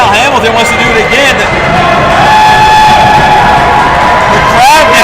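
Crowd cheering and shouting at a 2015 all-star basketball game dunk contest, loud and sustained throughout, with whoops and a swelling roar near the end.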